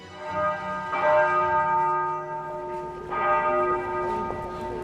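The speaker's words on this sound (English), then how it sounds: "whispered prayers in the night echo alongside morning church bells" A church bell in the Holy Land rings out twice, a couple of seconds apart, each strike ringing on with a long resonant hum.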